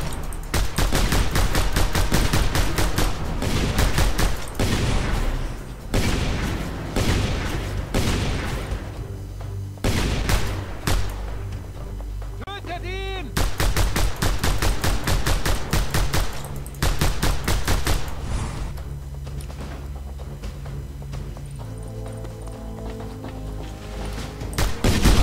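Dense video-game gunfire from Just Cause 2 rattles almost continuously, rapid automatic bursts and booming shots layered over game sound, loud and close throughout with no talking.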